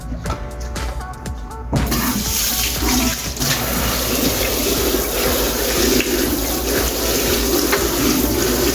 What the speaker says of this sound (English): Rinse off all the salt.